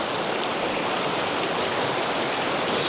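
Mountain stream water rushing over rocks beside a road through Jabri toward Hazara, a steady, dense, close roar of flowing water that runs unbroken and alone throughout.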